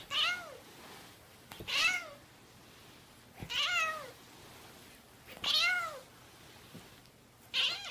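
A cat meows repeatedly, five drawn-out, wavering cries spaced a second or two apart, moderately close with quiet gaps between.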